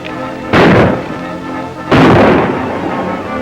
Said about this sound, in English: You and Charlie go find out who's doing that shooting and stop them.